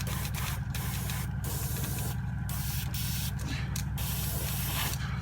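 Paint spray gun hissing in long continuous bursts with brief pauses, over a steady low compressor hum, close and loud with no talking.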